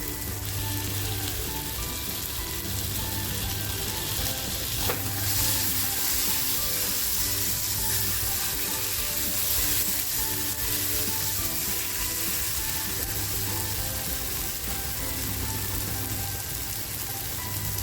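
Chopped tomato frying in a pan while a fish thali is cooked, a steady dense sizzle like light rain running unbroken throughout, fairly loud and close, with no voices.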